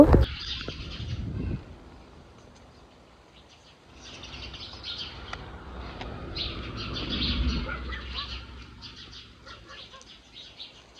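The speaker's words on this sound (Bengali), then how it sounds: "কুকুর ডাকাডাকির পর হঠাৎ করে সাউন্ড আসলো যে পাখির শব্দ শোনা যাচ্ছিল। অনেকগুলো পাখি একসাথে" A tree full of birds calls together, a steady mass of chirps and coos at moderate distance, with a brief loud thump at the start and a low murmur underneath.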